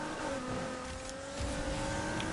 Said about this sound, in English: It sounds like rough, like I can tell I've engine tuned it and I made it sound really aggressive